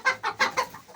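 A bearded hen clucks in a rapid series of six short, close clucks in about a second, evenly spaced and moderately loud.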